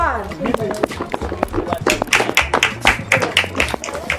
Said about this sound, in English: A round of applause for group 1